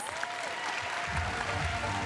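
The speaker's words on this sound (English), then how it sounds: "Give Jacob a round of applause." Applause from the crowd at a Minecraft convention costume contest, a steady wash of many hands clapping, with faint voices and low rumble beneath it.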